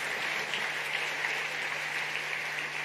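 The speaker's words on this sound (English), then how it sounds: "A bigger round of applause, please" Crowd applause at the African Climate Summit in Kenya, a steady, even wash of distant clapping with a faint constant hum underneath.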